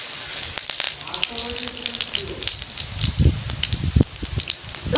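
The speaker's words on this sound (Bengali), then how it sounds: "তেল দিয়ে দিচ্ছি জিরে দিয়ে দিচ্ছি" Cumin seeds crackle and sizzle in hot oil in a home kitchen, an uneven close spatter with sharp pops, while a voice talks faintly underneath.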